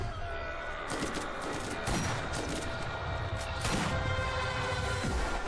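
Sniper rifle gunfire from a weak weapon in Borderlands, with repeated sharp broadband shots and impacts over a dense, continuous game soundscape, loud and close throughout.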